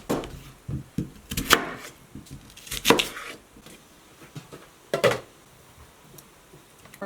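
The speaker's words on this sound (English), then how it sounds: "I'm going to go ahead and get these sliced up just a little bit for the pot." A knife slices beets and potatoes for a pot, with a handful of sharp, separate chopping knocks against a board spaced a second or two apart, close and fairly quiet between strokes.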